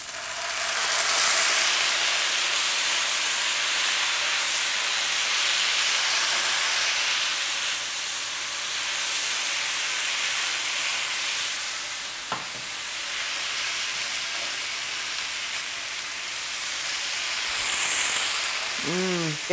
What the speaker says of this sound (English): To my onions and garlic, I'm going to add 1/3 cup of Merlot.